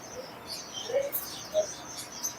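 A breeder pair of yellow-sided and green-cheeked conure parrots gives faint, scattered chirps, a few short calls standing out against a quiet background with no talking.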